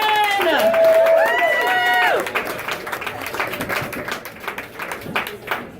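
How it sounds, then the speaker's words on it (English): A comedy club audience in Austin, Texas claps and applauds, a dense patter of hands that starts over an amplified voice and continues alone afterward. "Let's start clapping right now. Give it up for Brandon Kirkman!"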